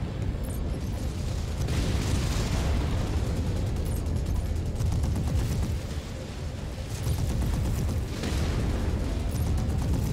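An ammo explosion in MechWarrior 5: Mercenaries sounds as deep, rumbling blasts over constant mech combat noise, with several heavy booms rolling out across the stretch.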